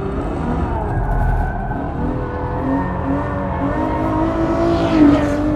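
A Ferrari F12 driven hard in fourth gear through a left-hand bend on track gives a loud, sustained engine roar at high revs, rising slightly near the end, with a faint edge of tire squeal.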